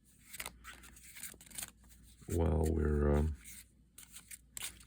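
A tarot deck being shuffled, giving a loud, dense riffle of cards that lasts about a second and sits between stretches of soft talk.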